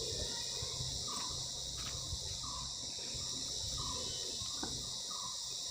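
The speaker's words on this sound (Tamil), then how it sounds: "இதில் இந்த பூச்சிகளோட சவுண்டு தான் அதிகமாக கேட்குது" Insects among countryside vines keep up a dense, steady high chirring, with a few faint bird chirps now and then. The sound is close, constant and free of any voices.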